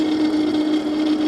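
Qronge X1 Spark electric motorcycle riding in mode 1, giving a steady high motor whine with a strong constant tone and broadband wind and road rush, continuous and fairly loud throughout.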